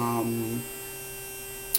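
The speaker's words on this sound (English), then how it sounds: "If you hear the buzzing sound, that's my granddaughter using her nail dryer." A small electric nail dryer gives off a steady, even buzzing hum that runs throughout at moderate level, with a brief tick near the end.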